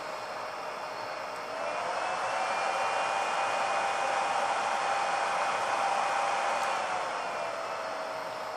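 A 12V DC switching power supply runs a mobile ham radio transmitting at about 25 watts, giving a steady, fairly loud fan-like hiss with a faint whine that swells slightly partway through, with no talking.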